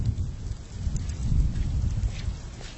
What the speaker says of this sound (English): A storm is heading towards the lagoon.